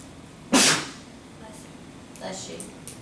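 A single loud sneeze bursts out near the start in a classroom, followed by quieter murmuring and faint voices.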